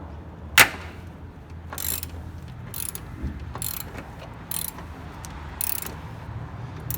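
A ratchet wrench with a deep socket works on a Miata coilover, giving short bursts of clicking ratcheting strokes separated by pauses, close and fairly loud, with one sharp knock near the start.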